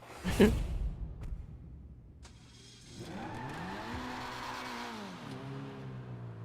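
A Dinka Jester RR car engine in a video game revs and accelerates, its pitch rising and falling in smooth sweeps after a sharp burst at the start, fairly close.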